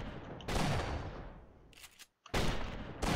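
Rapid bursts of machine gun fire from a tower in Roblox Tower Battles, loud and close, in two long volleys separated by a brief pause and near-silence.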